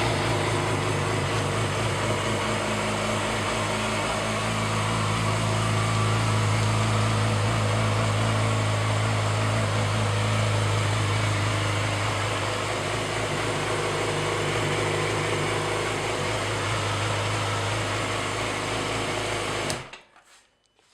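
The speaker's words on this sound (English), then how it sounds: "So as you can see, it starts up, no problem at all." Yamaha R6 sport motorcycle running at idle after starting, a steady buzzing high-revving engine drone that holds loud and close for about twenty seconds before cutting off, no talk over it.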